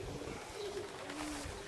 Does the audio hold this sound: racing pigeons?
yes